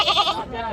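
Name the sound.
goat bleating at a livestock market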